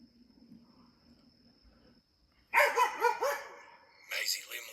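Maisie the dog barks in a quick run of four or five loud, close barks after a quiet lull, then gives another short burst of barks a moment later.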